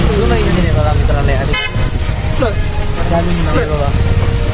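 An old railway locomotive, number 725, at Pandharpur station rumbles loudly while several short horn toots ring out over it, with voices in the background.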